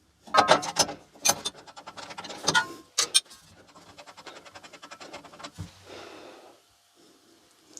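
Two locked nuts being worked off a Sip 01332 table saw, with scratchy metallic scraping, clicks and rubbing in uneven bursts, loud at first and then softer and more continuous, close by.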